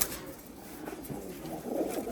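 A favourite domestic pigeon gives a short low coo, fairly faint and partly buried in steady background hiss, swelling slightly toward the end.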